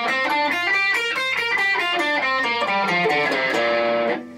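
A distorted electric guitar plays a quick minor pentatonic run of single notes from a guitar solo, ending on a sustained note, loud and close without any voices.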